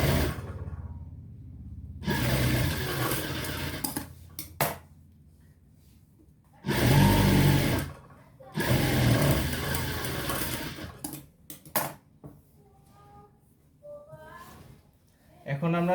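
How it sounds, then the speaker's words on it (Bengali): A sewing machine stitches the side seam of a kameez in several bursts of rapid whirring, separated by pauses and fabric handling, with someone speaking between runs. "এখন আমরা সাইড দিয়ে সেলাই করে নিব।"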